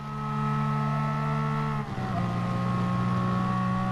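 An N300 race car at full throttle in Gran Turismo on Dragon Trail Gardens, a loud, steady, close engine drone with a brief dip as it shifts gear, then a continued high whine.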